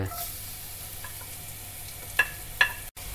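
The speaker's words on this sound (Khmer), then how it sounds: "ឥឡូវយើងដាក់អឺខ្ទឹមសចូលទៅកូរវាឲ្យវាពួងកន្លះទៅហើយ" Garlic sizzles in hot fat in a pot as it is stirred: a constant close hiss with two small clicks from the utensil near the end.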